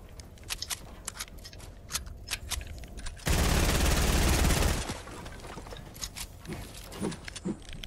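Rapid automatic gunfire in a video game squad battle crackles in repeated short bursts, then a sustained, louder stretch of continuous fire, followed by scattered shots again, with no voices.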